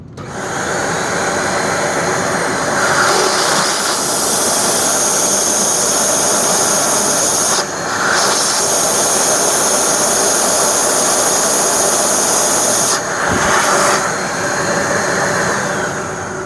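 A Dyson DC25 vacuum cleaner runs during a suction test with a loud, steady, close-up motor roar and rushing airflow, briefly dipping twice before resuming.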